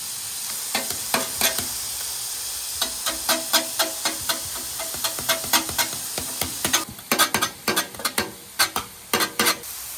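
Shaved ribeye sizzles on a Blackstone griddle while spatulas pull the meat apart, with a constant hiss under rapid, rhythmic metal scrapes and clacks that get louder and denser toward the end.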